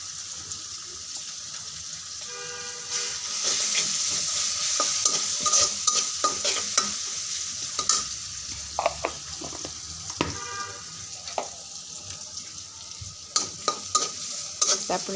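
Flat beans (shim) frying in a pan: a continuous bright sizzle runs throughout, broken by frequent scraping and tapping stirs from a spatula, close and fairly loud.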